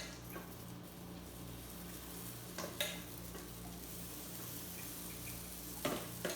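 Pancake batter sizzles on a buttered griddle, a quiet, continuous fizzing crackle with a low electrical hum beneath it and a few soft clicks and knocks from utensils.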